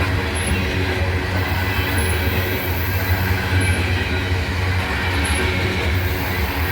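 A freight train rolls steadily past nearby in Abbeville with a continuous heavy rumble of freight cars and faint, recurring high-pitched wheel squeals.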